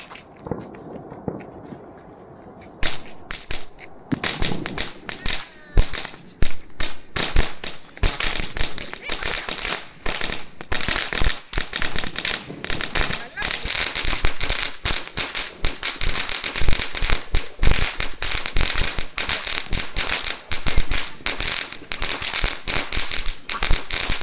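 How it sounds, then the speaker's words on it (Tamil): A long string of firecrackers bursts for Chinese New Year in China, a loud rapid crackling barrage running for many seconds after a quiet start, nearby and dense. "வெடி தான் இப்போ வெடிச்சது. கிட்டத்தட்ட 1 நிமிஷம் வெடிக்குது."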